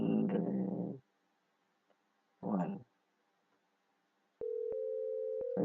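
A telephone call signal on a PBX network: after a short pause with brief voices, a steady ringback or dial tone sounds from a handset, broken by a few sharp clicks.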